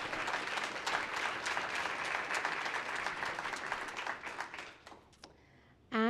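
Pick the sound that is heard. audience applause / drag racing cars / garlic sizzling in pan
audience applause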